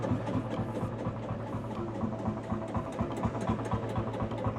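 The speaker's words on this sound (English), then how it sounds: "And that's how you start a two-stroke Marshall." A warm two-stroke Marshall engine runs at a steady idle nearby, a low, even chugging beat with a regular rhythmic thump throughout.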